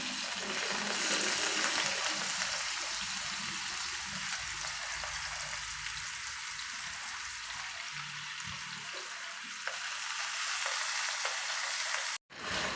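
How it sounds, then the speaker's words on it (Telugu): Vegetable pieces frying in hot oil in a home kitchen, a dense, steady sizzle that stays loud throughout with faint stirring, and no talking. "బాగా ఎర్రగా వేపుకోవాలి వీటిని."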